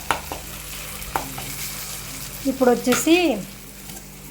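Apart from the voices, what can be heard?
stirring broad bean and tomato curry in a pan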